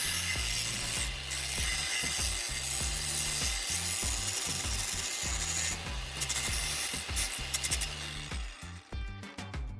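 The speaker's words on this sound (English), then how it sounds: "I'm now refining the flattened end with the angle grinder" An angle grinder working the flattened end of an old spark plug sounds as a steady, loud mechanical grinding with a low, pulsing rhythmic chatter throughout, briefly rising in harshness near the middle and breaking into uneven scraping toward the end; no one speaks.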